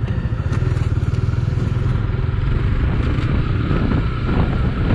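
A Honda CB150X motorcycle ridden off-road gives a steady, close engine drone with a fast thumping pulse, mixed with rattling clatter and crackle from the rough ground throughout.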